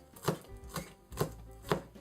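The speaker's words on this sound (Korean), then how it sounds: "파를 최대한 잘게 썰어서" A knife chops green onions finely on a cutting board, four evenly spaced, crisp thuds roughly half a second apart, close and clear with no talking.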